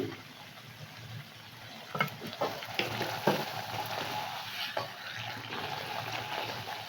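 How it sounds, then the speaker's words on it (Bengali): Spinach puri fries in very hot oil, a continuous close bubbling sizzle with occasional sharper spatters and crackles as the puri is turned, with no talking over it. "এটা এদিক ওদিক করে ভেজে নেই"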